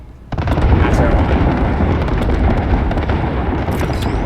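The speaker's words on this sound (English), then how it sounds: "Is that an airstrike? It is indeed." Airstrike bombs in Apex Legends detonating, a sudden loud blast that rolls into a dense, sustained rumble of overlapping explosions lasting several seconds.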